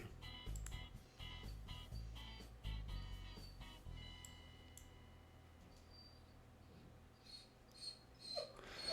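Pet dog (female) whimpering indoors, faint and high-pitched, with a few soft whines toward the end over a steady low room hum and scattered clicks.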